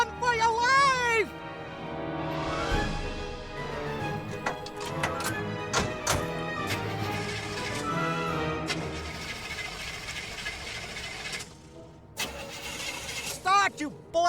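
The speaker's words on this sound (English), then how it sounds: "Start, you blasted car!" In the video game Foolish Mortals, a car engine cranks and sputters without catching, with grinding starter noise and clatter, while characters talk and a cat-like meow sounds at the start.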